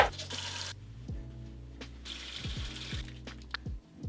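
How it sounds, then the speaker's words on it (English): Water runs from a bathroom tap into a sink while a face is washed. It makes a soft, steady splashing hiss, close and faint, broken by brief rubbing and low background tones. "I'd rather wash my face after."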